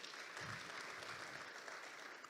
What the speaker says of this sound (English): Could we just give her a round of applause again